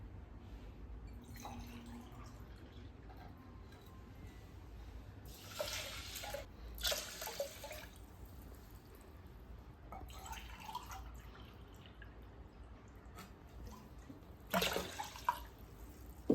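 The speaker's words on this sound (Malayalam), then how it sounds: "ഈ ഒരു ഗ്ലാസ്സിൽ 3 ഗ്ലാസ് വെള്ളം ഒഴിച്ചു കൊടുക്കണം" Water pours in a few short, quiet bursts from a glass into a pressure cooker, separated by stretches of near silence.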